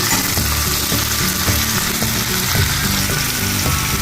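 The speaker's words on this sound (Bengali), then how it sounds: "পেঁয়াজটা একটু হালকা ভাজা ভাজা করে নেব।" Chopped onion frying in oil with chillies in a pan, a loud, continuous sizzle with faint rhythmic stirring clicks, close up and without speech.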